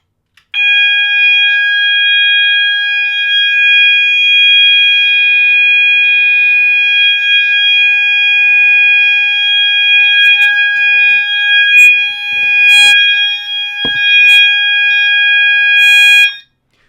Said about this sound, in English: this detector actually made a click noise when it went into alarm